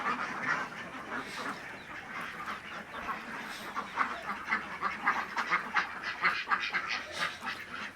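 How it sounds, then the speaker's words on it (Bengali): Many ducks on a farm pond in a Barisal park quack and honk together in a dense, overlapping chorus that swells and grows busier toward the end, nearby and steady. "এখানে অনেক হাঁস আছে, অনেক হাঁস।"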